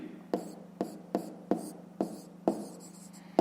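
Pen strokes on paper during a fifth-grade maths exercise: a steady run of short scratchy strokes, about seven evenly spaced across the span, close and fairly quiet, with no talking.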